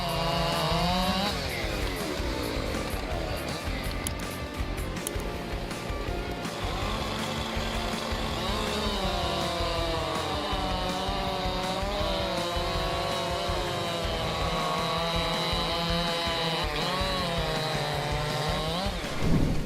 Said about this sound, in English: Let's see the competition between Husqvarna 592 and Style MS 661, leading chainsaws famous for their power and precision